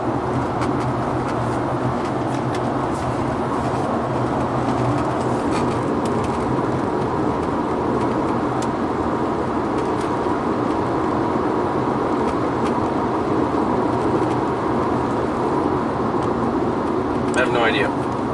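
A Honda Accord with a V6 variable cylinder management misfire cruising smoothly, giving a continuous low engine and road rumble from inside the cabin, with a faint voice at times.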